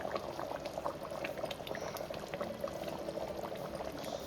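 A sardine fish curry (mathi meen kulambu) bubbles steadily in a pot as the fish goes in, a close continuous simmering gurgle with faint splashes and no talking.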